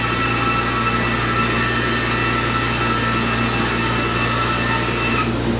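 Sawmill blade cutting lengthwise through a green hemlock log, a continuous loud whining, rasping roar that stays steady throughout with no voices.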